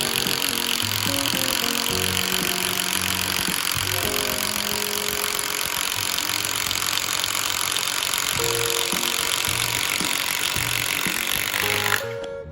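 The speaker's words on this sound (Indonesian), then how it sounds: "Sekarang kita tes ngebor pakai bor kipas ukuran 38 mili." A power drill bores with a 38 mm spade bit, a loud, steady grinding whine with a wavering motor tone that runs unbroken for about twelve seconds before stopping abruptly.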